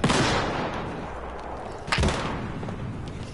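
An incendiary grenade is thrown in a shooter video game. A loud booming burst opens, and a second sharp blast follows about two seconds later, each trailing off in a rumbling tail, with no voices.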